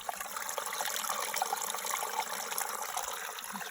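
Water pours steadily from a natural spring at an off-grid campsite, a continuous close hiss and splash that stays even throughout, with no speech.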